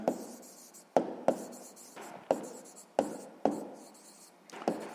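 Pen strokes writing out a sixth-grade math solution on paper, close scratching in short bursts of about a second each, separated by sharp taps.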